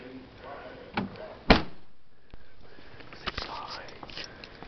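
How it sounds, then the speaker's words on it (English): The fuel door on a 2011 Nissan Sentra pops open with a sharp click and thunk, followed by quieter handling clicks, while a person talks nearby. "There's the fuel door."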